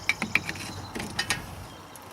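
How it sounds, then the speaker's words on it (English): Metal tool levered between the rotor and brake pad to push the caliper piston back on a BMW E36 front brake, giving a few sharp clicks and scrapes followed by softer grinding, close and fairly quiet. "stick it between the rotor here and the caliper so you can press this piston back"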